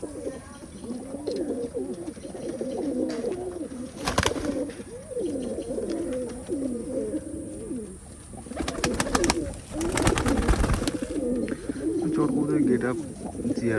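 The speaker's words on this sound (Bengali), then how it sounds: "তুলা কবুতর আছে" Tula breed pigeons, an old Khulna breed, coo in continuous low throaty rolls up close, with a few sharp knocks and people talking nearby.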